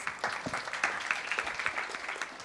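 Round of applause from a gathering at a Shrimad Bhagwat Katha after a devotional bhajan, moderate clapping with distinct individual claps that holds steady for the short stretch.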